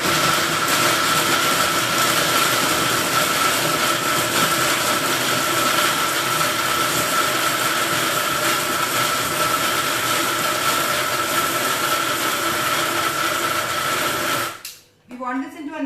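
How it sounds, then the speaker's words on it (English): A kitchen mixer grinder churns a paan mixture into paste with a loud, harsh, continuous whir that runs close and unbroken for about fourteen seconds, then cuts off abruptly. "be prepared for the sound now because my mixer is going to be on"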